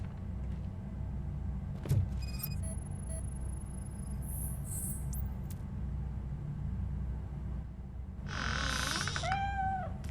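A cat meows in the RoboCop: Rogue City video game, faint and brief near the end, over a steady low rumble and scattered electronic game tones.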